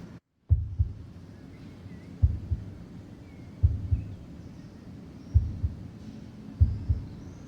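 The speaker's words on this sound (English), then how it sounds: "A heartbeat and gentle pearl-like rattling." A slow, steady heartbeat in the video game Harmony: The Fall of Reverie thuds in deep double pulses, five even beats over a faint, hushed ambience.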